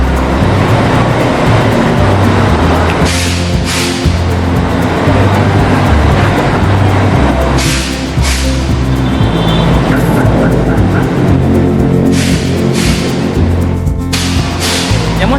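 A Pusaka intercity bus, fitted with a 1836 engine, idles at the Kurnia bus depot at night: a steady, loud, close engine rumble fills the whole stretch, with brief hissing bursts and faint voices in the background.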